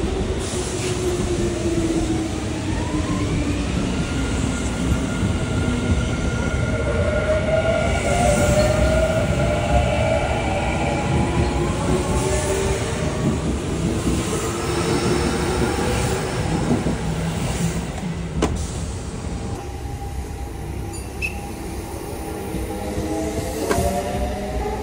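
A ten-car Kintetsu Osaka Line rapid express train pulls away from a station at weekday morning rush, with a steady loud rumble, rising motor whine and rolling wheel noise that ease off near the end.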